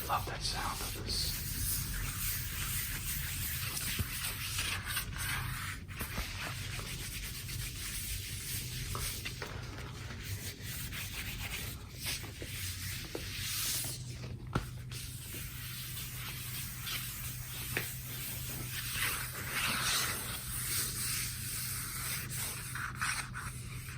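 Soft, steady rubbing and scraping on a matte-finish vinyl record, close and quiet, continuing with small shifts in texture and no voice.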